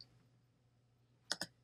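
Two quick, crisp mouse clicks on a Mac come in close succession after a near-silent stretch, faint and close.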